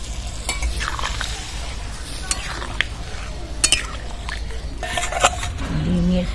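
Sautéed masala with a little water added, stirred in a pan with a metal spoon, giving soft sizzling under repeated scraping and clinking strokes, close and fairly loud.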